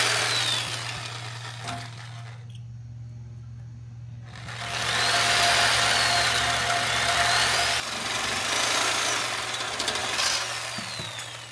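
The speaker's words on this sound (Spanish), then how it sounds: "sierra eléctrica. Voy a cortar esto." Electric saw cutting metal on a Ford F-150 OBS pickup during a radiator and intercooler upgrade, a loud sustained buzzing whine with a steady hum beneath, briefly stopping before cutting resumes.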